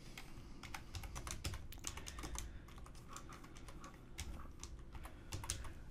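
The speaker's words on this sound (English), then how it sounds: "type in what you want to put in there" Someone types steadily on a computer keyboard while editing web page text, with rapid, close clicking keystrokes at a low, even level and no speech.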